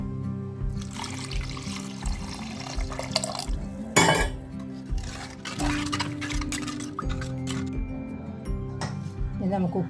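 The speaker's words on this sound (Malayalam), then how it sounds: "പുളിവെള്ളം ചേർത്ത് കൊടുക്കാം" Tamarind water is poured into a spice mixture in a home kitchen, trickling and splashing with small glassy clinks while a person talks over it.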